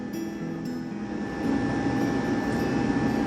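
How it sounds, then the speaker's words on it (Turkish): Steady, broadband engine roar inside the cabin of an airliner cruising at about 25,000 feet and 900 km/h, heard continuously with a faint overlaid tone and no speech. "uçağımız 25 bin feet yükseklikteki normal irtifa ve 900 kilometre hızla yol almaktadır"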